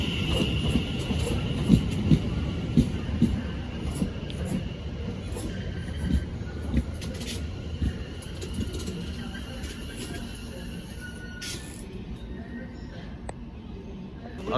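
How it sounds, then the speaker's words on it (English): An electric train departs the Battersea Park area bound for Windsor and Eton Riverside, a steady low rumble of wheels and motors rolling along under scattered bird calls and occasional light clanks, fading slightly toward the end. "departing now is 701037 bound for Windsor and Eton Riverside"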